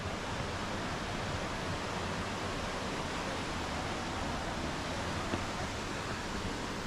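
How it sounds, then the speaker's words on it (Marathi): Water rushing steadily at Ban Jhakri Falls in Gangtok, a dense, constant roar of falling water with no breaks across the whole stretch, moderately loud and even throughout. "तर तुम्ही आवाज तुम्हाला येत असेल तर पाण्याचा."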